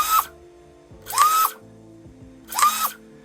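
An HC Diana airsoft gun fires three single shots in single-fire mode, each a short buzzing motor whir with a brief trigger delay, evenly spaced about a second apart, close and clear.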